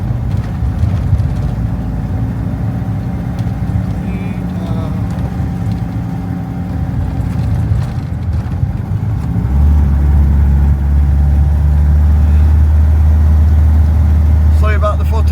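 A car drives through Castleton village, its engine a steady low rumble throughout that swells louder and heavier in the second half, with faint road and traffic noise around it.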